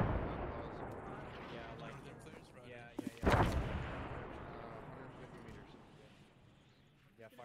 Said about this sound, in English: Looks like a mortar is firing.